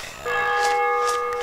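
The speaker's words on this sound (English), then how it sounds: "I can hear a bell." A single bell tolls in the video game DayZ, a clear ringing tone that starts sharply and sustains with a steady hum, fairly close and loud, with no voices over it.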